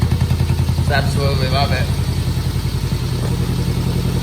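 A motorcycle engine idles and warms up after winter prep, a steady low mid-pitched rumble with light mechanical clatter running throughout, close and loud, while a person briefly speaks over it.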